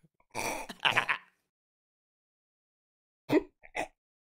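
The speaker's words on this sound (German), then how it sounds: "Entschuldigung, ich musste mich kurz räuspern." Two bursts of throat clearing from a player during a GTA roleplay drive-in order: a longer, rough double rasp near the start, then a shorter pair of clears after a quiet pause, close and clear against silence.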